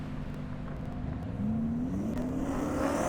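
A race car at an airstrip drag race makes a high-speed pass, heard from a distance as a steady engine drone that rises in pitch as it accelerates, with no voices.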